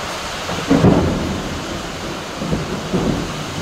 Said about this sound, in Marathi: आभाळ गरजतो